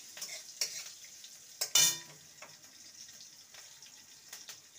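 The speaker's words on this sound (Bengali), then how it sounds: "ফোড়নটাকে ভালো করে নেড়ে নেব" Tempering of asafoetida and chopped green chilli stirred in oil, a soft low sizzle broken by repeated scraping and clinking stir strokes, one louder clatter midway, quiet and close, no talk.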